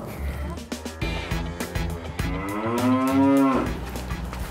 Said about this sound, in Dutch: Wat is dat? Een koe.